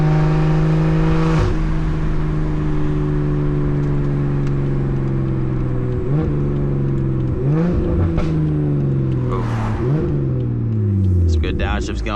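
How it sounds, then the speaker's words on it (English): An 800 hp BMW 340i engine revs hard, dropping and surging in pitch as it downshifts through gears, loud and close, with brief rises between shifts. "Downshifts going."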